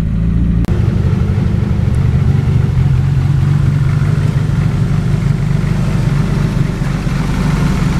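A freshly rebuilt turbocharged car engine runs at a raised idle just after its first start, a loud, steady, close rumbling drone, with one sharp click early on.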